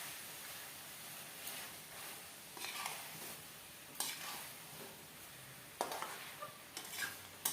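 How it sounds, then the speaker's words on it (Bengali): Mutton curry being stirred and fried in a pan, a soft continuous sizzle broken by several scraping stirs and clinks of the spatula, close and fairly quiet, with no talking. "এবার আবারও খুব ভালো করে আমি 1 মিনিটের মতন লাড়ি চাড়ি ভাজি নেব"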